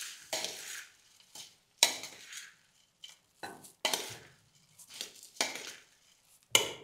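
A spoon mixes a chutney mixture in a bowl, giving a series of separate scraping and clinking strokes at an irregular rhythm with quiet gaps, close and fairly soft.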